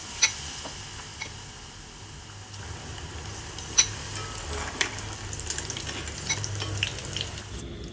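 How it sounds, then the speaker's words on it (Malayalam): Eggs fry in hot oil for a chilli egg dish, giving a steady crackling sizzle close by, with scattered pops and light clicks of a utensil against the pan. "ബാക്കിയുള്ളത് നമുക്ക് ഇതുപോലെ തന്നെ ഫ്രൈ ചെയ്തെടുക്കാം."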